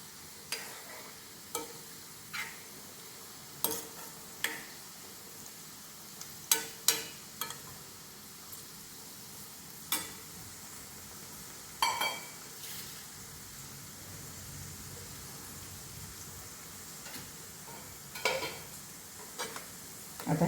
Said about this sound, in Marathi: आता हे चांगलं तळलं की बंद करते.